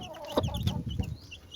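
A mother hen with her new chicks gives a few quick, close clucks in a brief burst, with soft high chirps behind them.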